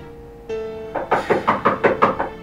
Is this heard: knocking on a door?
yes